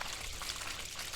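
Steady rushing water from the Baitarani river pours out of a pipe onto farm fields, a continuous broadband splashing gush with no voices over it.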